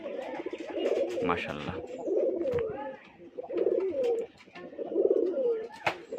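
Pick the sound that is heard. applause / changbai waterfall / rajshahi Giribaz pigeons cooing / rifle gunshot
rajshahi Giribaz pigeons cooing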